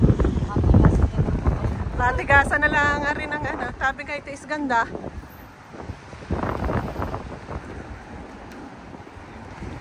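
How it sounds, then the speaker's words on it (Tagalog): Gusty wind buffets the microphone in low rumbling bursts at Weymouth beach while a person talks close by. "ang lakas ng hangin, madadala ako."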